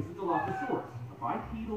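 A black cat meows indoors at home, a couple of short, faint mews close by, with a person talking over and around them.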